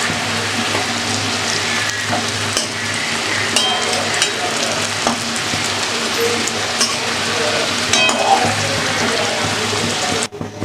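Onions frying in a little added oil left from frying potatoes, a dense steady sizzle like heavy rain on a surface, close and continuous with faint stirring, ending in a brief clatter.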